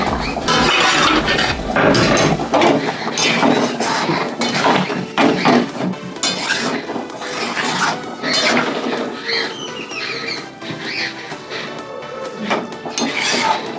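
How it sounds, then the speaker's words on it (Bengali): Pot lid lifted off a simmering pot of boiling papaya in a home kitchen, with dense metallic clinks and clatters of cookware and utensils running continuously, fairly loud and close, no talk. "আমি ঢাকা খুলে দেখি কত দূর হলো, পেঁপে সেদ্ধ হয়েছে নাকি"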